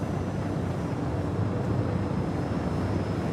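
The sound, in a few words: spaceship main thrusters in Star Citizen video game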